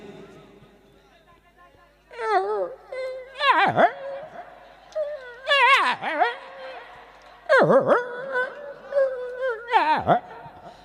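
A male dog whines in a series of high, wavering moans, several drawn-out cries rising and falling close by, with short pauses between them.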